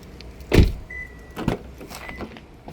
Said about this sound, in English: gonna open up the doors.